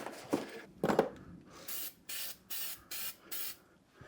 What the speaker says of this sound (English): now I'm going to spray the back side of this one